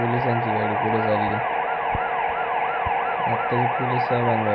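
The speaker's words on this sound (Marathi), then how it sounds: "पोलिसांची गाडी पुढे चालली." Police car siren wailing loudly and continuously on an expressway, its rising and falling tone steady over traffic rumble with a few low thumps, close by.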